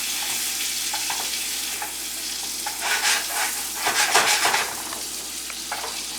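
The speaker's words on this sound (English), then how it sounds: "right now what we're doing is creating a sauce for the French toast. We're going to let this brown sugar melt down" Brown sugar sauce for bananas Foster sizzles and crackles steadily in a pan, with stirring scrapes and a louder burst of frying partway through, heard close and alone.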